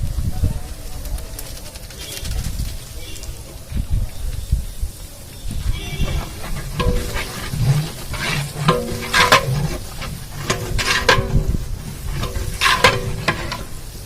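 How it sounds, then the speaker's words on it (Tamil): Onions sautéing in a large pot for 25 kg of restaurant-style chicken biryani, a loud sizzle under repeated heavy scraping and stirring strokes, with a voice talking intermittently. "நம்ம போட்ட வெங்காயம் நல்லா வதங்கிடுச்சு"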